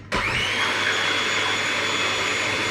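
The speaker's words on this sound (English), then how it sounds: "So Let's whisk these to stiff peaks first of all." An electric whisk beats egg whites to stiff peaks, starting abruptly and holding a loud, steady motorised whir with a high whine throughout, close and alone.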